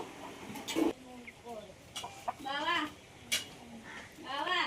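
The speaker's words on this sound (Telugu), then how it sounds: "చికెన్" A chicken clucks in short repeated bursts and drawn-out calls, close and moderately loud, alongside people talking.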